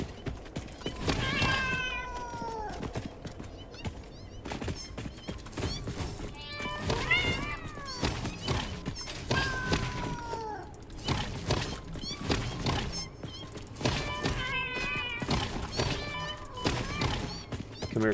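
Cats in the video game Satisfactory meow repeatedly and loudly, with bursts of calls spread across the stretch over thuds and mechanical game sounds.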